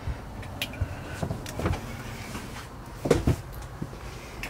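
A few soft knocks and thuds of motorhome interior doors being shut, spaced irregularly in a quiet room, with a louder double clunk near the end.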